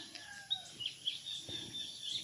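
A chicken clucks in short, scattered calls on a rural Philippine homestead, moderately near, over a steady background of insect or bird chatter and faint ambient noise.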